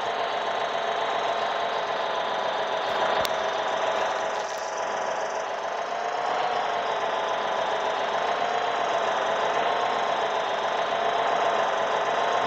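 Vehicle engine idling in the mobile game Farming Simulator 14, a steady mid-pitched mechanical drone with a slight knocking texture that holds evenly throughout, with no talking.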